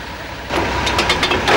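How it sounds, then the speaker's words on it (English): A Unimog fitted with a German rail conversion working as a shunting engine, a loud steady engine rumble that swells partway through with rhythmic clanking pulses. "With its German rail conversion, the Unimog can shunt up to 600 tonnes."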